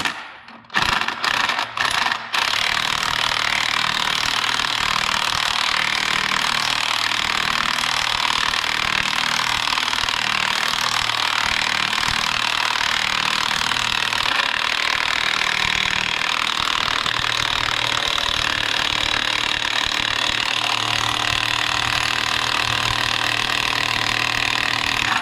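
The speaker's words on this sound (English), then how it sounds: "I'm really impressed with that cordless impact" A cordless impact wrench drives steering box bolts on a 1750 steering box reseal, giving a loud, continuous hammering buzz that runs steadily for over twenty seconds after a few short bursts at the start.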